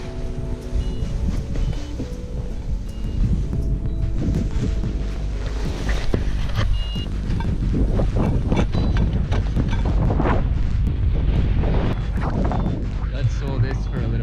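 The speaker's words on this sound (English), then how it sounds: "we've got another soarable wind, probably likely similar to Fern, but I don't think it's strong enough to cause too much harm" Soarable wind rushing past a paraglider in flight over the Austrian mountains, a loud, continuous low roar buffeting close against the microphone for the whole stretch, with gusty surges and no break.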